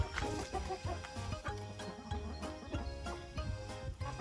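Several chickens cluck close by, short repeated clucks overlapping in an uneven rhythm.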